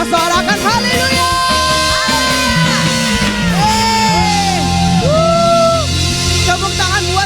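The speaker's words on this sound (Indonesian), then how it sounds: "Sama sorakan haleluya." A church congregation at a Sunday service shouts and cheers hallelujah together, a loud sustained crowd roar with whoops and yells over continuous organ or keyboard music and singing.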